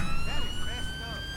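A police car siren wails in GTA 5 while it chases a bike on a British-style motorway, a repeating rising and falling tone close by over road noise and a low background rumble.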